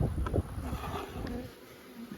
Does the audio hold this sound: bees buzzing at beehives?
yes